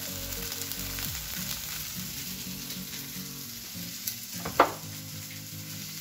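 Salted potato fries sautéing in a pot sizzle steadily and close, with a brief clatter of stirring near the end and no talk.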